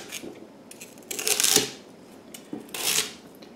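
A knife cutting rhubarb stalks into chunks on a board, two distinct crisp slicing crunches with softer handling noises between, close and moderately quiet.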